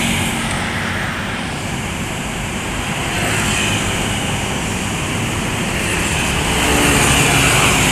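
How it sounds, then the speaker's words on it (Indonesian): A Sumbar NPM intercity bus passes along Jalan Soekarno-Hatta in Palembang, a steady loud rumble of engine and tires mixed with road traffic that builds slightly toward the end. "Nah, ini ada satu unit bus Sumbar yang akan melintas NPM."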